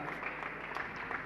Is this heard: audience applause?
yes